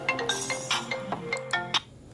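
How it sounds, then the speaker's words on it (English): An iPhone X ringtone plays on an Android phone, a bright, chiming melody of quick repeated electronic notes, loud and close, with no talking. "you can choose the best iPhone X ringtones"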